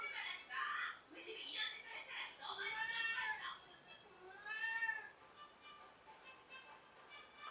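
A baby stray cat gives several thin, high meows, some drawn out, at a soft level close by, with a few quiet gaps between calls.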